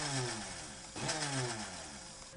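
Blender whirring as it mixes a base of egg and cold milk, a steady motor drone with a brief surge in pitch partway through, close and continuous with no talk.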